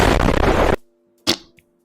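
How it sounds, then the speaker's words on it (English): A sharp explosion from a grenade in the Roblox shooter Blox-Squad, a short punchy blast with a quick fading tail, heard after a loud burst of game noise cuts off into near silence. "Explosion."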